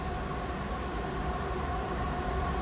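A CSX freight train rolls past nearby with a steady, dense rumble and rail noise that holds constant for the whole stretch, with no voices.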